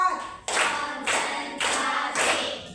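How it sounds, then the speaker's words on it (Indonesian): A classroom of children clapping hands together in a counted rhythm, four crisp, loud bursts of collective claps spaced about half a second apart, with no voices over them. "Tepuk 4."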